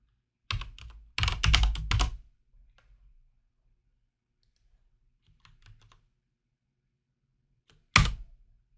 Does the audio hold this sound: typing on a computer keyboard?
yes